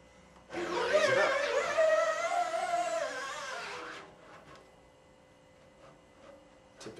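Steady scraping and humming as a scoop coater is drawn up a screen-printing screen, spreading emulsion for about three and a half seconds, then a quiet stretch with faint bumps and clicks.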